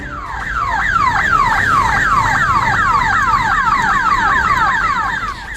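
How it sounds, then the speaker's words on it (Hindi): A loud electronic bank alarm siren at a Punjab National Bank branch wails in fast, repeating rising sweeps, steady and unbroken for several seconds on a quiet cold night. "पंजाब नेशनल बैंक के बोचाचक ब्रांच से सायरन की कर्कश आवाज गूंजने लगी"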